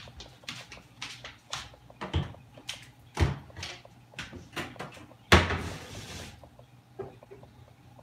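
A lid goes onto a cooking pan of stovetop meatloaf in gravy, heard as a series of sharp metallic clanks and clatters spread unevenly, with one louder knock midway.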